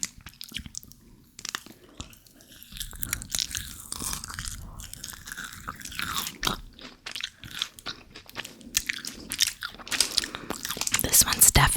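Coffee Crisp Nugabar, a chocolate bar with a thin fudge top, nougat and puffed rice layer, bitten and chewed close up with repeated crisp crunches and moist mastication sounds, plus a little wrapper crinkle, with no talking.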